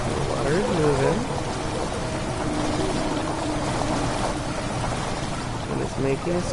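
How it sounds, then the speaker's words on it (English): Moving water in the horror game Amnesia: The Dark Descent, a steady pouring, trickling wash that runs through the whole stretch, with game music and other ambience layered over it. "The water is moving."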